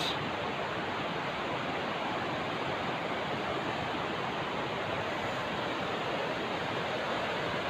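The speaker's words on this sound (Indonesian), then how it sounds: "suara saya terganggu dengan suara sungai yang ada di bawah" Steady rushing water fills the air as a constant, broad hiss, unbroken and fairly soft, like a river flowing some distance below.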